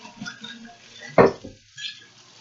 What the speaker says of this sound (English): So you stir the drink generously.